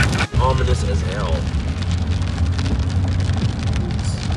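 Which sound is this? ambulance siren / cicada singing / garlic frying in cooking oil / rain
rain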